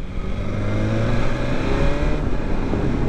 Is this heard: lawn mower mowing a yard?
no